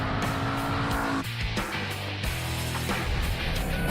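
Ford Mustang Boss 302 with a 444-horsepower engine accelerating hard on a test track, loud and close, the engine roar rising through gear changes with tire squeal.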